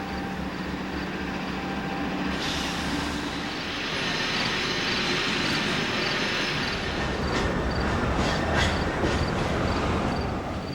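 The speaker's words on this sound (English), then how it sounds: "see the container train to Elizabeth" Container train bound for Elizabeth, New Jersey rolling past on track 1 near a tunnel's east portals, a continuous loud rumble of railcars with occasional wheel squeal and clatter throughout.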